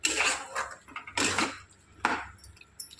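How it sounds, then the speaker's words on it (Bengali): A utensil scraping and knocking in a pot of mutton and taro curry, several bursts of clattering stirring separated by short pauses, close and fairly loud. "এইভাবে ভালো করে নাড়িয়ে চাড়িয়ে"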